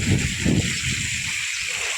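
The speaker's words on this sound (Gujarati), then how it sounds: "અને આ બાજુ જો સ્મિતાબેન અમારે પાણી આવે છે તો પાણી ભરે." Tap water running and gushing for dishwashing at home, a steady close splashing flow that is loud at first and then settles into a continuous rush, with no voices.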